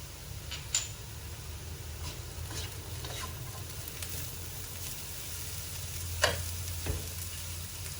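Minced ginger stir-fried with beetroot in a pan, a soft, low sizzle with occasional stirring clicks and scrapes of the utensil, quiet and close, with no voices.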